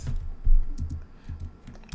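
Close, brisk typing on a computer keyboard, a quick run of key clicks in uneven bursts with short pauses, with no voices over it.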